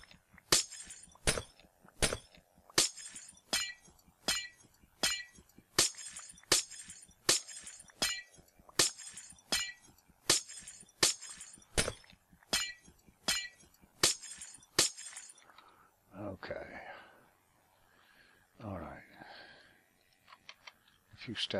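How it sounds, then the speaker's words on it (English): Glass blocks in Minecraft broken one after another with silk touch, a rapid, steady series of about twenty sharp glassy clinks, loud and close, then a few quieter scraping footstep-like sounds at the end. "let me go ahead and silk touch that glass out. I was just about to start breaking it."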